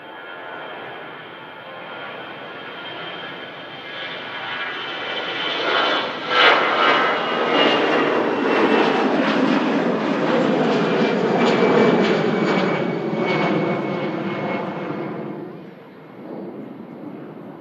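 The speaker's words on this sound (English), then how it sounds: "Here's the Pegasus" A Pegasus Airlines jet departing Manchester Airport for Istanbul, its engines building into a loud, broad roar that peaks midway and then gradually fades as the airliner climbs away.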